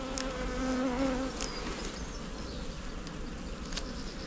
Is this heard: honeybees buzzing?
yes